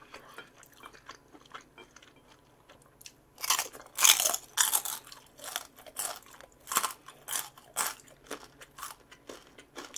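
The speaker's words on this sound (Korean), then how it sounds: "바삭바삭 소리 나죠?" Crunchy bites into fried Vietnamese spring rolls (chả giò), slightly softened in places yet still crisp, give a series of loud, close crackling crunches with chewing between them and no talk.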